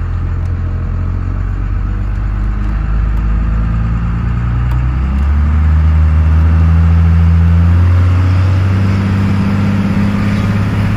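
A 1993 Dodge Ram W250 4WD truck idles with a steady low engine rumble, then revs and pulls away from a stop, the drone rising and holding loud and close throughout.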